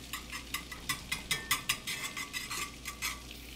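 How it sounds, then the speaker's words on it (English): Metal whisk scraping and stirring in a cast iron pan as butter melts, a steady series of quick rhythmic strokes about every third of a second over a faint low hum, close and alone. "Normally I wouldn't recommend the metal on metal contact, but the whisk shouldn't do too much to the cast iron."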